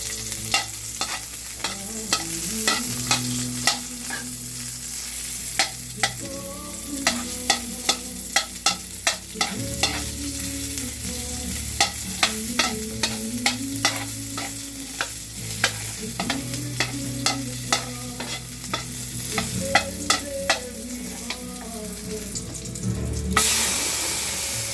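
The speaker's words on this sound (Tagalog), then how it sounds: "Magigisa na tayo ng bawang." Garlic sautéing in a pan for chop suey, a steady oily sizzle under repeated sharp clinks and scrapes of a utensil against the pan in an irregular stirring rhythm, close and fairly loud, with no talking.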